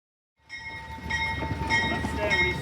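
A train with air brakes rumbles in after a moment of silence, with a steady low roar and high sustained metallic squeal and whine tones running over it, growing louder and staying continuous to the end.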